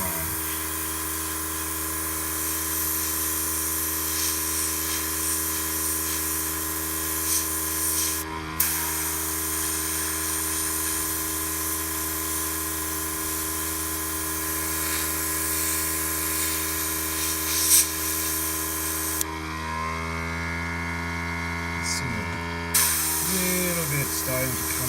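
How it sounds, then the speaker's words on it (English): An airbrush spraying paint onto a 1:350 Polar Lights USS Enterprise model deflector dish, a steady close hiss with a faint hum under it, briefly cut off and restarted a few times. "I was having little problems with the airbrush"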